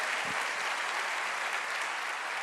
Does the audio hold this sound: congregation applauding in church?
yes